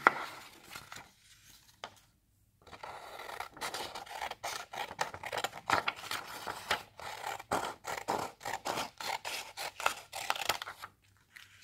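Scissors cutting, likely through paper, in a quick series of close, crisp snips and scraping strokes, with brief pauses between bursts and no talking.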